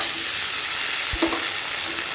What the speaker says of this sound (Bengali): আদা রসুন আর কাঁচা লঙ্কা এটা দিয়ে খুব ভালো করে নাড়াচাড়া করবো